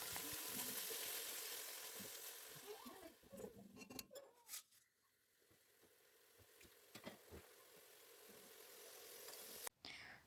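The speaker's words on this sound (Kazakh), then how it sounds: "Бөлек табаға сары май мен пиязды қуырып аламыз." Butter and onion frying in a separate pan, a soft, steady sizzle with faint spatters and a few stirring clinks, close and fairly quiet, with a brief loud knock near the end.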